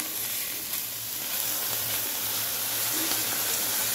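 Ground spice paste of ginger and onion hits frying vegetables for a cauliflower curry with sarputi fish, giving a steady close sizzle and hiss with faint stirring and no talk.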